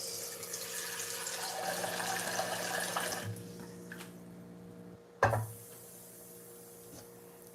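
Water running from a tap into a pot of noodles, a steady close rush for a few seconds that cuts off, then a brief splash and a quiet tail.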